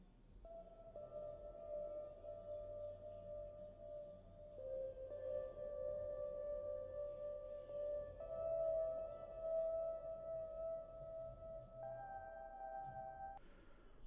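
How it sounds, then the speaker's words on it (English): Electric guitar in a lofi beat, EQ'd thin and distant like an old radio, playing quiet sustained notes that shift pitch every few seconds over a soft low backing pad. "So the next thing I played is this electric guitar."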